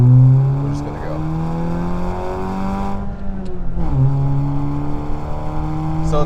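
Race car with a 1.5-liter engine accelerating hard on a track, loud steady engine harmonics rising through the gears with a brief dip around a shift, close and continuous, with a voice talking over it.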